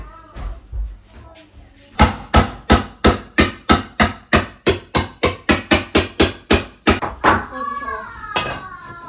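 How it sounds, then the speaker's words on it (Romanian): Repeated hammer blows on metal, about twenty sharp evenly spaced strikes straightening a thick-centred piece, loud and close, with brief talk before the hammering starts. "A doua leacă ciocanul ca să îndrept asta, că vezi că în mijloc e așa groasă."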